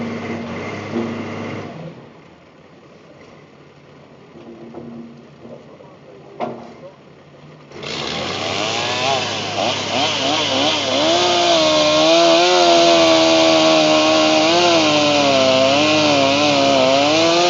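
A chainsaw with a chain that keeps slipping off cuts wood outdoors during cleanup work; the engine idles low at first, then roars loud and steady as it bites in, with the pitch wavering under load.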